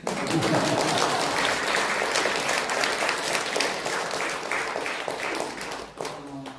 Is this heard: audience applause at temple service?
yes